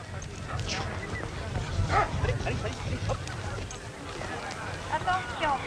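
Dogs at a national dog training school's agility demonstration in Saint-Gervais-d'Auvergne: repeated barks and yips at moderate distance amid crowd noise and talking.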